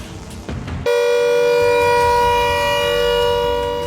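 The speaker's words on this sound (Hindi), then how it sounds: "मेरठ में भी घनी आबादी वाले इलाकों में जंगी सायरन बजाया गया।" A loud civil defense air raid siren starts abruptly after a moment of background murmur during a mock drill in Meerut, then holds a steady wailing tone that fills the rest of the clip.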